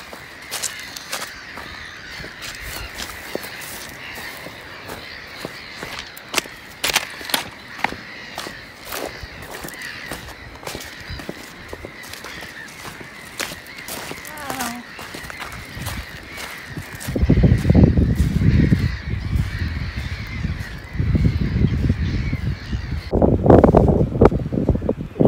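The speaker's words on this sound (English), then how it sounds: "Those birds are really going at it." Crows or similar birds caw loudly and repeatedly in the Lofoten Islands, Norway, with sharp calls scattered throughout over a steady outdoor wind background that grows rougher and louder near the end.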